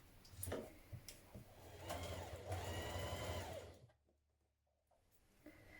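Home sewing machine stitching a knit top's seam, a steady whirring run of stitches lasting several seconds before stopping abruptly, followed by near silence.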